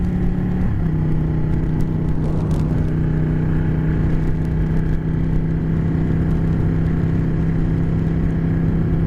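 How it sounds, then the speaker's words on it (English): A Nissan car speeds past outdoors, a steady loud engine drone with a sustained tone throughout, a brief burst of passing noise near the start, and no talking. "Damn, that Nissan's hauling ass."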